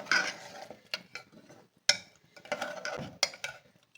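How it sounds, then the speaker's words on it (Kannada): Quiet, close scraping and clinking of a spoon stirring mutton liver with added water around a pan in short irregular strokes. "ಈಗ ಇದೆಲ್ಲ ಹತ್ತಿ ಮಿಕ್ಸ್ ಮಾಡೋಣ"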